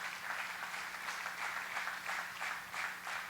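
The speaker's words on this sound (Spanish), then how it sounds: "Denle un fuerte aplauso a nuestro Dios" A church congregation applauding, a continuous wash of clapping from many hands at a moderate distance, steady for the whole stretch with a faint hum underneath.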